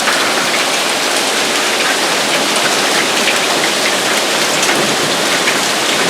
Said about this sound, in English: That is hail, folks.